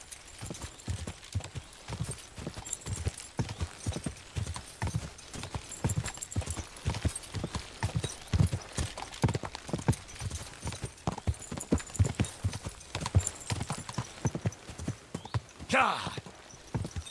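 A horse gallops at a steady, rapid clip-clop in the video game Kingdom Come: Deliverance 2, hooves loud and close throughout, with a brief whinny near the end and shouting voices under the hoofbeats.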